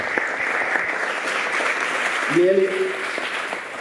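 An audience at a Brazilian music concert claps steadily and moderately loud for a performer, while a voice speaks briefly partway through.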